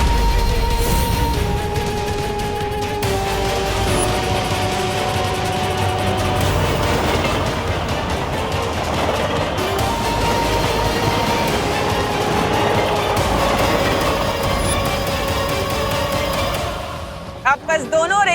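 A train rolling along rails in a Hindi fantasy TV drama, with a steady, continuous loud rumble and clatter mixed with dramatic music throughout, fading abruptly near the end.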